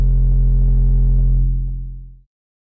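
A single sustained 808 bass sample for an Afro beat, a deep booming tone that holds steady for about two seconds and then fades out quickly, leaving silence.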